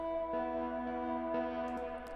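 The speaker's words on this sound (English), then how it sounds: "Just a bit harsh around the highs." Pop punk guitars with delay and reverb but no auto filter, held chords changing twice, a bright, somewhat harsh top end, steady and quiet.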